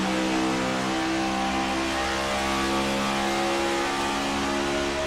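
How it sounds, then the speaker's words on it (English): Race car engines revving in the iRacing video game at Charlotte, a loud, steady high-pitched drone that holds at full throttle without a break and with no speech. "Love the sounds of these engines."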